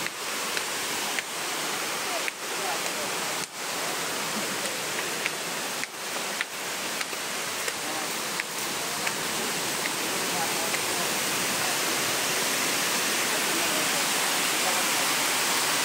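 Water pours steadily over Wawa Dam in Rodriguez, Montalban, Rizal, Philippines, a dense unbroken rush heard up close that never lets up, with a few faint ticks scattered through it.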